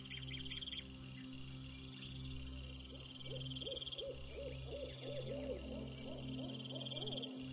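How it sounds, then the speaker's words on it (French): A distant owl hoots repeatedly in a forest at night, its calls steady above a constant layer of chirping crickets and soft ambient hiss, with no voices. "Et au loin, le salut d'un hibou."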